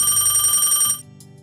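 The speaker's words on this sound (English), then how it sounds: "Another phone call." A telephone rings with an incoming call, a loud, close electronic trill that cuts off abruptly after about a second, with no voices.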